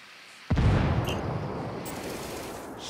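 A frag grenade detonating in Ghost Recon Wildlands, one sudden heavy boom that rolls off into a long rumbling decay, loud and near.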